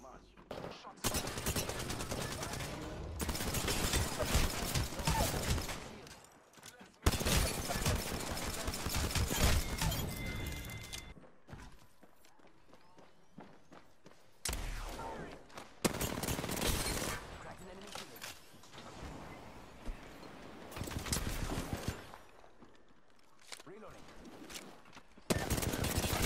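Gunfire in a video game crackles in long dense bursts and rapid volleys, broken by short lulls, loud and up front, with some talk between the bursts.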